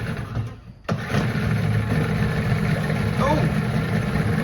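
A Johnson 15hp outboard motor, long unflushed, catches after a pull and settles into a steady, loud running drone close by, with a brief quieter moment just before it fires.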